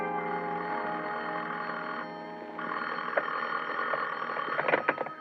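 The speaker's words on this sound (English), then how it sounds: "somebody was ringing a telephone in my ears" A telephone bell rings in a radio drama, a steady repeated ring at moderate level that continues alone with some clatter near the end.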